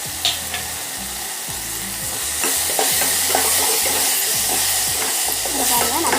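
Tomatoes with rock salt are sautéed for an okra tamarind kuzhambu. A loud, close sizzle swells partway through, while a spatula scrapes and stirs the pan in a repeated rhythm.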